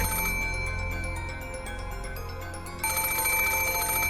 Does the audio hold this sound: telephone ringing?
yes